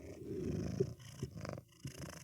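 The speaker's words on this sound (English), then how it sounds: "his purring sounds so nice through this microphone" A cat purrs close into a microphone, a soft, low rumbling in steady rhythmic pulses with brief breaks between breaths, quiet and intimate with no talking.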